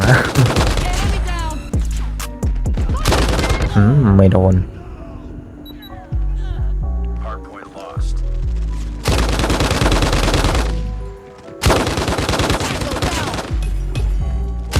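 Long bursts of automatic fire from the RAAL MG machine gun in Call of Duty Mobile, loud rapid rattling broken by short pauses, with someone talking briefly between bursts.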